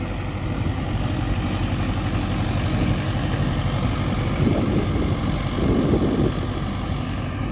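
HMT tractor engine pulling a laser land leveler, a steady loud low diesel rumble running throughout with slight surges in load, no voices.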